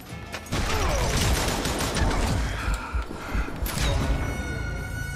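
Gunfire in the Western shooter Call of Juarez: an enemy blasts a double-barrel shotgun again and again, loud dense bursts of shots and crashes running almost continuously, with no pause for reloading.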